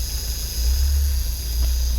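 A Volkswagen Rabbit diesel engine idles with a deep low rumble and then revs up a little, rising in strength for a moment before easing back, heard close with a faint steady high whine above.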